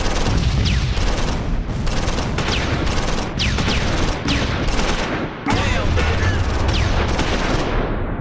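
Grenades bursting against a Sturmgeschütz assault gun in the World War II strategy game Close Combat 4, a dense run of loud explosive blasts and gunfire cracks in rapid succession over a constant battle roar.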